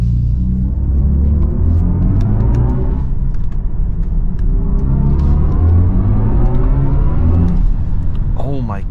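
BMW i4 M50 electric car, 544 hp, accelerating hard: a loud, steady rising rumble and whine from inside the cabin, continuous throughout with road and wind roar.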